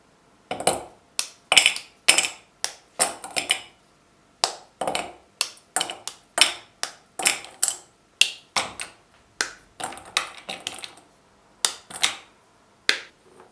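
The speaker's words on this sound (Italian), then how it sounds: "Rompo il cioccolato e lo metto in una ciotola." Sharp, crisp snapping cracks come in quick irregular bursts, close and fairly loud, with brief pauses between clusters and no talking.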